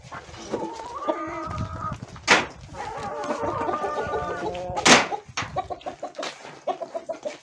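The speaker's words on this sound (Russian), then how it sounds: "Курочки." Backyard hens cluck and chatter in a series of short calls nearby, with a few louder squawks breaking through and a quicker run of clucks at the end, no talking.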